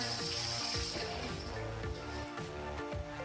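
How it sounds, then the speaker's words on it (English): Water splashes and pours steadily onto a kitchen countertop, close by, with music playing underneath. "Add some water."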